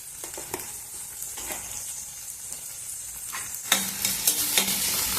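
Onions frying in oil in a pan with a little salt and turmeric for a moth bean curry, a steady soft sizzle with a few stirring scrapes, growing louder near the end.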